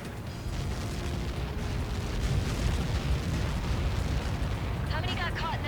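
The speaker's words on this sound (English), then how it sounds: "How many got caught in that explosion?" A large explosion in the Ace Combat 7 flight game, heard as a sustained, heavy roaring rumble with crackling bursts, followed by a faint radio-like voice near the end.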